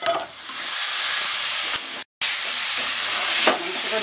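Chicken pieces hit hot oil in a pan while cooking jeera chicken curry, Bengali style, raising a steady broadband sizzle and hiss that runs loud throughout, with one brief cut-out midway and a small flare near the end.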